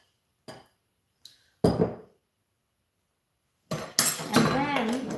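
A clean spoon clinks against glass bottles of garlic, a few short taps and scrapes, then a louder clatter with a voice talking over it.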